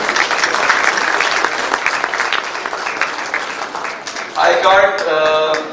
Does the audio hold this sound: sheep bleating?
no